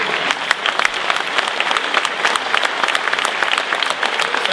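A dense, steady wave of applause fills the hall at a political campaign rally, many hands clapping loudly and evenly throughout.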